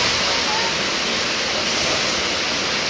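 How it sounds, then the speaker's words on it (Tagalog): Heavy rain pours down steadily with water overflowing and rushing nearby, a dense, loud, unbroken wash of noise during a downpour outside a home in the Philippines. "Ang lakas ng ulan, no?"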